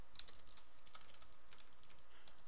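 Rapid clicking keystrokes on a computer keyboard, a steady stream of light taps close to the microphone, heard alone with no talking.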